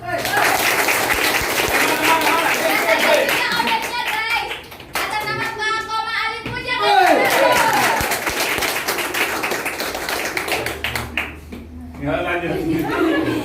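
An audience at an office gathering claps to welcome visiting staff from another branch, sustained applause rising and falling over several seconds with a brief lull, while people talk and chuckle over it.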